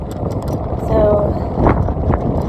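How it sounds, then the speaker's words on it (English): Strong wind on an island buffets the microphone with a low, rumbling roar that swells and gusts over a couple of seconds, while a person talks through it. "It's like super windy. Super windy on the island today, can you tell?"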